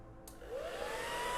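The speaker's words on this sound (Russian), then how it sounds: "Так, включился фен." An electric hair dryer switches on at its cold setting, a sudden broadband whoosh that rises in pitch as the motor spins up and then holds a steady, fairly quiet airflow.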